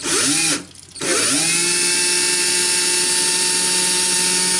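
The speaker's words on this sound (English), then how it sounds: "Apply a light bit of pressure. You don't want to break your plate, but it's not going to drill through all by itself" A power drill bores through a china plate, whining loud and steady with a short dip as it slows and restarts before running on continuously.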